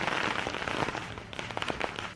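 Fireworks crackle and pop in rapid, dense bursts during a BJP election victory celebration in Ahmedabad, Gujarat, a continuous rattling barrage with sharper reports toward the end.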